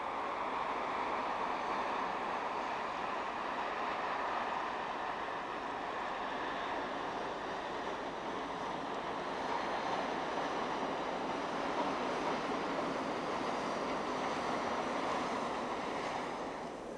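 An Austrian Class 1042 electric locomotive, repainted in its original dark green livery, runs past with a loud, steady rushing rumble that holds unbroken for the whole stretch, with no voices.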